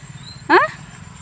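A dog on a farm gives one short, sharp bark or yelp close by, a single brief cry rising above a quiet rural background.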